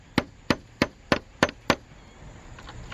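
Six sharp metallic taps of a hammer on a nail punch setting a slate nail during a slate roof repair, evenly spaced and close, followed by quiet background.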